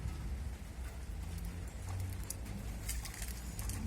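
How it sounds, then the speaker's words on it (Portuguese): Steady rain patters outdoors during a thunderstorm, a soft continuous hiss with scattered sharper drops and a low rumbling background. "Tá chuviscando, tá chovendo, tá trovoando."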